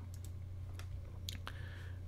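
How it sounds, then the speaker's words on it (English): A few scattered keystrokes on an Amiga computer keyboard, light clicks over a steady low hum, with no talking. "So let's just try typing that in, see if that works."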